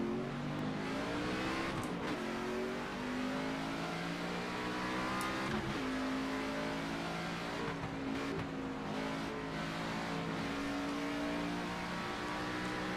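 NASCAR 25 race car engines roar in a crowded pack of game traffic, a sustained loud engine drone with rising and falling revs and occasional passing cars, continuous throughout and without talk.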